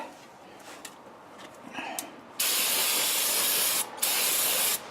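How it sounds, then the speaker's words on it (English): Brake cleaner is sprayed onto a Chevy Traverse rear brake rotor, a loud continuous aerosol hiss in two bursts split by a short pause, preceded by quiet shop clinks. "Hit it with your cleaner, because you got to get the oil that they spray on here off."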